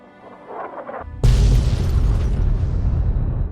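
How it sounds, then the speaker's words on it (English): A UFO crashing somewhere in the Fallout 3 wasteland: after a faint rumbling lead-in, a sudden heavy explosion booms in, then a long, loud rumbling decay that slowly fades. "that explosion was actually a UFO crashing"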